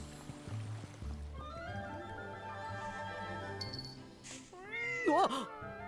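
A cat meows in The Adventures of Elliot, a few drawn-out, wavering cries rising near the end, loud and close over a quiet game music bed, with no talk.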